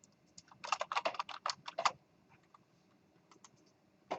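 Fast typing on a computer keyboard while writing a C++ file: a close burst of crisp keystrokes, then a pause with a few scattered key taps.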